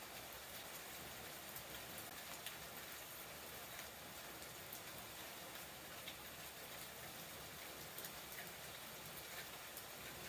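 Steady rain falling outdoors in the Pacific Northwest, a continuous even hiss of drops with scattered faint patters, unbroken for the whole stretch and with no voices.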